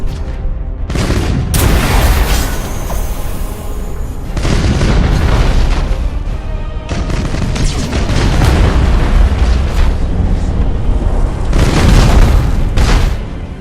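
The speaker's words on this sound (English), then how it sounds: "Open fire all weapons." Starship weapons fire in the space battle game Battlefleet Gothic: Armada: repeated heavy booms and explosive bursts in loud, clustered volleys with brief lulls between them across the whole stretch.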